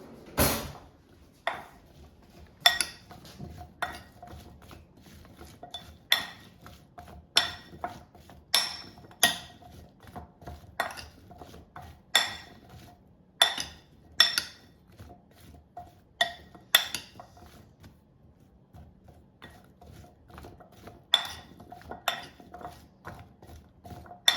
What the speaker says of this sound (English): And now toss so it's coated with seasonings.